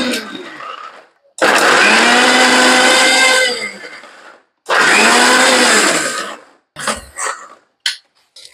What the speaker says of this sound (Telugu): సో దీన్ని ఇప్పుడు కచ్చాపిచ్చాగా మిక్సీ చేద్దాం.